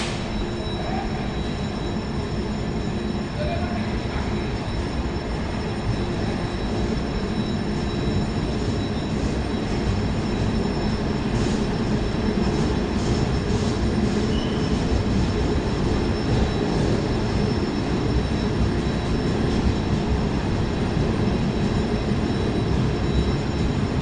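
A slow passenger train with sleeper cars rolls past close by, a loud continuous rumble of wheels on rail with faint metallic squeals and rattling carriages, steady from start to finish with no talking.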